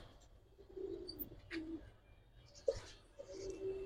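Giribaz pigeons coo softly in a loft, giving several low, rolling coos spaced a second or so apart, with light scuffs and flutters of movement between them, all faint and close.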